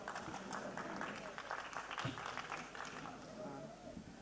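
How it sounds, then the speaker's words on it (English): Audience applause greeting a speaker at a startup competition final in Nepal, a sustained clatter of many hands clapping with crowd murmur and some voices mixed in, steady throughout. "Ladies and gentlemen, please give a huge round of applause for Mr."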